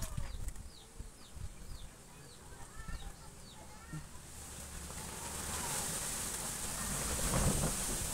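Strong wind rushes and swells, growing louder toward the end, with birds chirping faintly early on.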